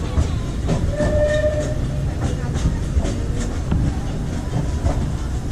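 Disneyland Railroad train rolling along its track past a jungle-themed section of the park, a steady rumble with faint clatter and a brief tonal squeal, a voice-like murmur in the background.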